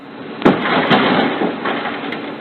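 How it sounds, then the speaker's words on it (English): Car window glass smashed in a vehicle burglary in New Orleans, one sharp crash followed by a few more impacts over steady broadband noise, close and loud with no talk. "That's the sound of a freshly replaced window smashed for the second time in less than a month."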